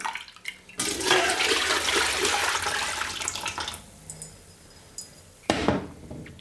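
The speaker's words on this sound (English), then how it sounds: "So I'll take all this curd and now quickly remove the whey." Whey from homemade cream curd cheese is poured off in a quick, splashing gush that runs for about three seconds. Clinks of a bowl or utensil and a short final splash follow.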